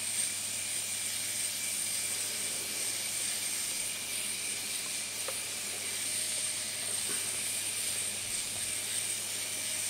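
A steady, broadband steam hiss runs evenly throughout, from steaming fly-tying feathers above a boiling source, with a faint high whine and an occasional soft click; close and constant, with no talking.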